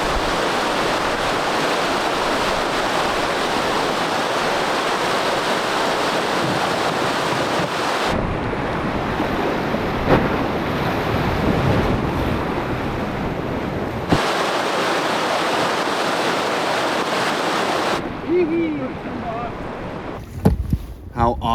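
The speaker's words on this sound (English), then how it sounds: "December whitewater canoe trip with the Budnick brothers, Zender and Max." Whitewater river rapids on a December canoe trip in rain, high wind and snow, a continuous loud rushing roar mixed with heavy wind buffeting against the microphone, with brief shifts in tone and a few knocks near the end.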